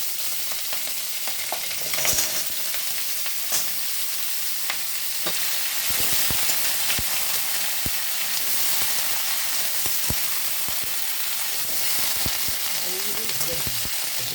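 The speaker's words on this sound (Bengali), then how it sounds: "এবার কাটোয়ার ডাঁটা আর লঙ্কাগুলো চলে যাচ্ছে" Katoa stems and green chillies hit hot oil in a pan with dried chillies and black cumin. They give a loud, steady, close sizzle with scattered spits and stirring clicks, and a voice speaks faintly near the end.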